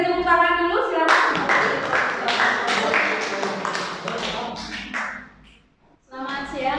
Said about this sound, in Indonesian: beri tepuk tangan dulu silakan